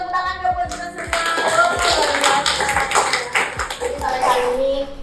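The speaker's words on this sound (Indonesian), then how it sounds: "Boleh tepuk tangan dong buat kita semua" Small group clapping and tapping in a podcast studio, a steady patter of several hands close by, mixed with voices and someone speaking over the applause.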